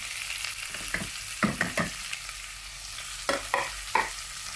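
Onions sauté in a hot pan for salmon sinigang, a steady close sizzle broken by several sharp scrapes and knocks as the pan is stirred.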